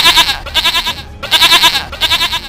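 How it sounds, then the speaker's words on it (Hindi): A goat bleating loudly in a cartoon: two long wavering, quavering cries separated by a short gap, close and clear with no talk over them. "अरे ये तो बकरी की आवाज़ है"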